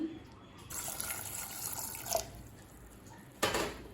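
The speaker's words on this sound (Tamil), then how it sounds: "தேவையான அளவு தண்ணி" Water poured into a pot of soaked chickpeas for pressure-cooker masala sundal: a steady running, tap-like splash for most of the stretch, with a brief sharper burst near the end, no voices.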